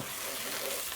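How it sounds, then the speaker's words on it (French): Thai red curry paste fries in a pan, a soft, steady sizzle and crackle heard close up but at low volume, brief and without speech. "en ce moment, je fais revenir ma pâte à 250 degrés Fahrenheit"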